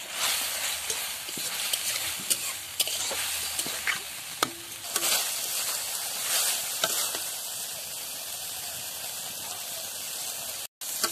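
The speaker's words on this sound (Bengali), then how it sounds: "মশলার সাথে মাংসটাকে ভালো করে কষিয়ে নেব।" Meat sizzles in hot oil with spice paste during Bengali-style kosha frying: a continuous close hiss broken by repeated scraping stirs of the spatula against the pan, with no talking.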